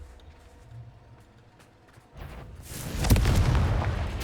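A Confringo explosive spell in the video game Hogwarts Legacy lands as a swelling blast about halfway in, rising to a loud rumbling boom that lingers after a quiet start.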